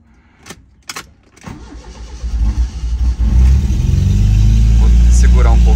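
A turbocharged car engine starts and is held on the throttle to warm up, climbing from a few sharp bursts into a loud, steady, rising rev close by, with someone speaking briefly early on.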